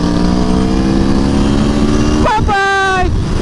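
An Aprilia Tuono V4 1100 Factory motorcycle engine holds a steady loud drone up close, then its pitch dips and rises sharply as the throttle changes near the end.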